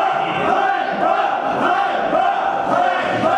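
A crowd at a Cherkasy city council session shouts and yells continuously, a dense loud roar of many voices drowning out the national anthem.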